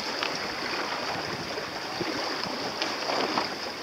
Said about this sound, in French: Oh là, il y a des vagues ici, c'est bizarre.